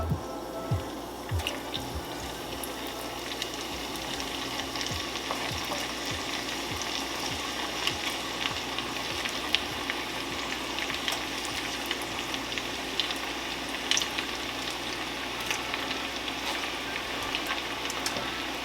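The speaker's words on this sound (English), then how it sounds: "I'm just gonna start dropping our green plantains in." Green plantain slices drop into hot frying oil, a few soft plops early on, then a continuous crackling sizzle with scattered pops, fairly quiet and heard alone.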